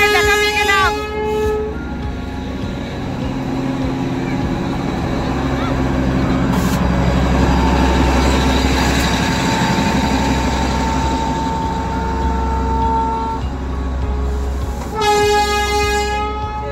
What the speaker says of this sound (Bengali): বাতাসিয়া লুপে টয় ট্রেনের দেখা পেয়ে গেলাম।